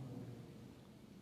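Faint, brief thunder rolls low beneath a steady wash of falling rain, recorded outdoors on a camera with no one speaking.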